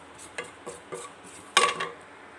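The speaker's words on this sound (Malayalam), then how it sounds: "ഇനി ഒരു കാൽ ടീസ്പൂൺ പെരിഞ്ചീരകം ഇളക്കി കൊടുക്കാം" A spoon scrapes and knocks against a pan while fennel seeds are stirred into a beef pepper curry, several distinct clinks with one louder clatter near the end, no voices.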